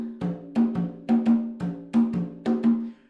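Conga played one-handed in a calypso pattern with the eighth note on beat three left out. Repeating open drum strokes fall in a steady groove of pairs and single hits, close and clear, with no voices.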